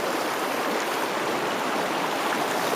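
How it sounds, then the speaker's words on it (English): Steady, close wash of flowing stream water fills the whole stretch as a hiker wades through the flooded Zion Narrows canyon, with no voices and no breaks in the rushing sound. "So I've been walking in water for at least the last hour and a half or so, 2 hours"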